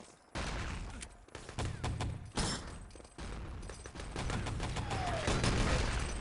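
Heavy bursts of gunfire and explosive thuds fill a match of the shooter game ET: Legacy, including a Panzer strike, loud and continuous with overlapping shots.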